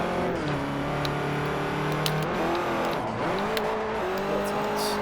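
A low-horsepower drift car in a Forza racing game drives and slides, its engine droning steadily with shifting revs and a brief tire squeal, loud and continuous with no talking.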